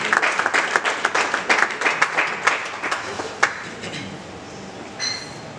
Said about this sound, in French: Nous l'encourageons par nos acclamations.